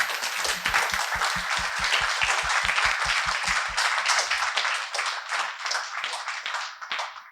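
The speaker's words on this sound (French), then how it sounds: "cet exposé fabuleux qu'on peut applaudir." Audience applause at a literary talk on the Holocaust by bullets, opening as a crowd's dense clapping with a rhythmic burst of synchronized claps, then continuing as steady, fairly close applause that thins slightly toward the end.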